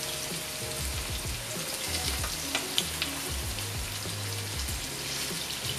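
Pork chops searing in oil in a pan, a dense, continuous crackling sizzle with occasional sharper pops, heard up close and alone.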